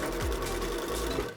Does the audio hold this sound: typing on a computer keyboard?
no